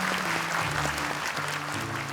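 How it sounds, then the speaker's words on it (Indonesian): Audience applause for a young contestant on a televised Quran memorization competition, a short burst of steady clapping under music and studio sound. "Boleh tepuk tangan lebih meriah lagi untuk Arim."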